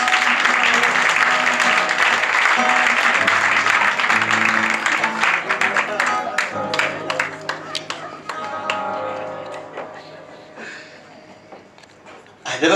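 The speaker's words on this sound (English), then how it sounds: "A warm round of applause, please." An audience at a mentalist's stage show applauds warmly, loud and dense at first and then thinning into scattered claps, with someone speaking over the later part.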